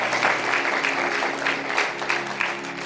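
A church congregation at a Punjabi sermon claps loudly together, a dense, sustained burst of applause from many hands with a faint hum of voices under it.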